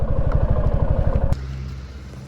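A motorcycle idling close by with a loud, rapid, pulsing thump that abruptly drops to a quieter, smoother idle partway through, with no one speaking.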